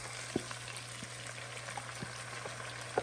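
Cooked chicken going into a pan of potatoes and onions for chicken biryani, a faint steady sizzle with a low hum, broken by a few soft clinks and taps of a spoon or utensil.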